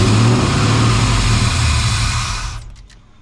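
A 1992 Chevy C1500 pickup with a swapped LS1 V8 runs loud and close right after its first start, a rough deep rumble that holds steady and then fades as the engine dies away at the end.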